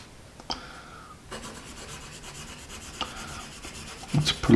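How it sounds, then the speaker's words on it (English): A 2B pencil scratches across paper in soft, close strokes with a faint gritty rasp, a few sharper ticks and a louder scrape at the end. "For a 2B pencil, I wouldn't expect it to be scratchy, but it has a little scratch to it."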